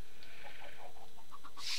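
Minecraft chickens on a blocky chicken ranch, giving a quick run of soft, repeated clucks in a steady rhythm over a low ambient bed, ending with a brighter burst.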